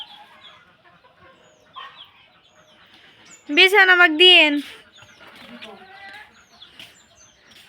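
Chickens in a village yard: one loud burst of squawking cackles midway stands out over softer intermittent clucks, while people talk nearby.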